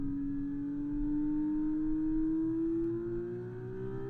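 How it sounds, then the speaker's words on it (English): An F2 race car engine in F1 24, heard as a smooth, steadily rising engine whine building in pitch over a few seconds, fairly quiet and with no talking. "the engine gets so fucking loud in the headphones"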